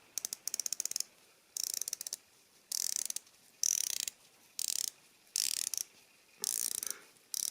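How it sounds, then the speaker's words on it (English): The 120-click bezel of a Zelos Mako V3 dive watch is turned in repeated short runs of rapid, crisp ratcheting clicks, heard close up and quiet. About eight bursts are separated by brief silences. "A lot of really cool attention to detail, 120 click bezel, and we're going to listen to that."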